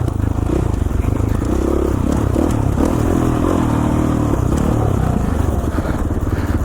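An off-road dirt bike rides mountain single track in Idaho, its engine loud and close, revving and rising and falling, with rattles and scrapes from the trail throughout.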